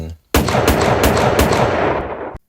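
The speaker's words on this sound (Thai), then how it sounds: "แล้วไม่นานก็ตามมาด้วยเสียงปืนอีกสามสี่นัด ดังขึ้นติดติดกัน" A loud, close burst of gunfire: about four shots fired in rapid succession, blending into one sharp, echoing volley.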